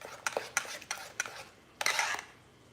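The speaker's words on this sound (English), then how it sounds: "Keep these stirring every couple of minutes" Grits stirred in a pot, a series of short scraping strokes of a utensil against the pot in an uneven rhythm, then a longer scrape, close and quiet with no voices.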